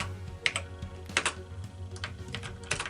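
Keys pressed on an Acorn Electron home computer keyboard while the CHAIN command is typed, a handful of separate clacky taps at an uneven pace, close and fairly clear, no talk.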